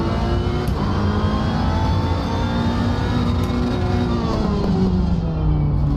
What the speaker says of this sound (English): You can see the rev limiter kick in